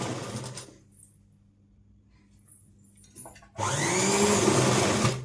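An electric sewing machine runs in two bursts while double-stitching the side seam of a blouse, first a short whir, then a quiet pause with small handling sounds, then a louder, steady close-up run lasting a couple of seconds.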